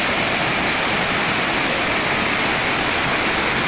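Steady broadband rush of water at the Sanghagara waterfall in Keonjhar, heard continuously and fairly loud with no break or talk across the whole stretch.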